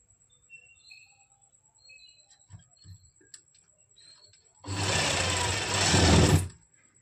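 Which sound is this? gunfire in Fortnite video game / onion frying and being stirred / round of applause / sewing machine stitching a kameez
sewing machine stitching a kameez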